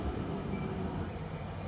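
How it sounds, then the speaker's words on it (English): A London Underground Central Line train bound for Epping approaches the platform with a steady, dense rumble and hiss at moderate loudness, with no voices over it. "This is your Central Line train to Epping, now approaching platform number 6."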